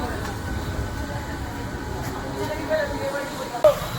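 A commuter train rumbles steadily along in a rainy, flooded area, a constant low roar and rattle heard from inside the carriage, with a faint squeak or two near the end.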